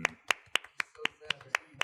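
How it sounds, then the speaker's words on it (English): A slow, polite golf clap, about eight soft, evenly spaced hand claps in a small room, close and fairly quiet. "Golf clap. Golf clap."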